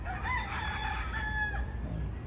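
Dinkfair broodstag rooster, an imported F1 gamefowl, crowing once in a long drawn-out call at moderate distance over low background rumble, no speech.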